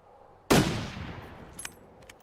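A single muffled gunshot rings out at a distance in a survival video game, a sudden thump that decays into a long fading rumble, followed by faint quieter clicks.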